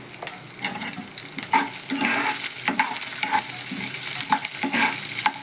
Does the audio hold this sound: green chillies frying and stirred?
yes